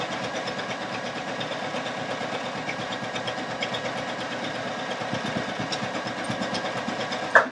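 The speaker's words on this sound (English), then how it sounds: "I'm going to stitch at the default, and we'll do a few of them here" A Baby Lock Allegro sewing machine stitches at its default setting, a steady rapid mechanical whir with a fast regular pulse, close and continuous, ending in a brief louder click.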